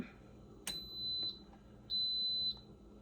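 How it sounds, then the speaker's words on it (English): Two long, steady electronic beeps from an Instant Pot electric pressure cooker sound close by, high-pitched and evenly spaced, in an otherwise quiet room. "So that beeping is telling you it is ready to go."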